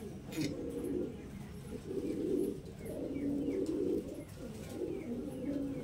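Kaldom pigeons, two single females, coo softly in repeated low throaty bursts, faint and close-by with a few light chirps in the background.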